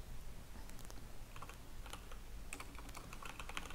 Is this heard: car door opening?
no